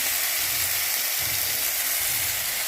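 Garlic paste dropped into hot oil with mustard seeds, for a Kerala-style beetroot stir-fry, sizzling and hissing steadily at close range with no talk over it.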